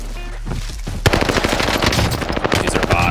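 Rapid automatic gunfire in the Warzone video game, a dense loud burst of shots starting about a second in and continuing as a fast rattling stream with scattered sharper cracks.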